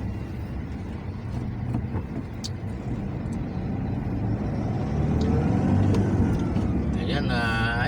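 Dense road traffic on a Philippine skyway, a steady broadband rumble of cars and heavier vehicles, with a passing vehicle swelling louder near the end; no one speaks over the hum.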